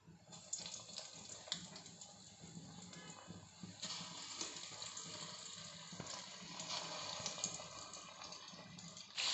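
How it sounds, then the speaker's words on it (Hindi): Stuffed green chillies deep-fry in hot oil, giving a soft, steady hiss and crackle that rises and falls gently for about nine seconds, heard close but quiet with no talking. "अब इनको हम डीप फ्राई करेंगे।"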